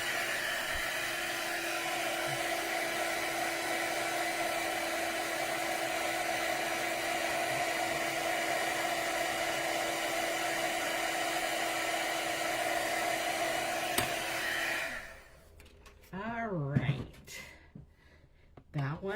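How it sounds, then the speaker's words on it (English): A heat gun blows hot air while crafting, a steady whirring blower hiss that runs continuously, then cuts off as a voice speaks. "pull out the heat gun"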